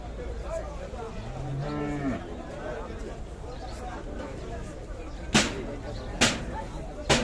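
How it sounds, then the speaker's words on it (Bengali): A single cow gives a drawn-out low moo at Gabtoli cattle market, followed by sharp knocks and clatter, amid a busy livestock trading crowd with voices in the background. "এই গরুটি খুবই সুন্দর একটি গরু সুকচান ভাইয়ের।"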